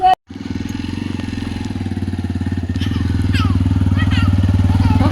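A motorcycle engine runs steadily at close range after a brief start, a continuous low, even throb that holds for several seconds, with faint higher sounds above it.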